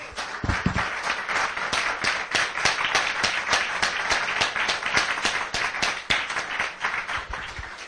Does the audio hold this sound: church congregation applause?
yes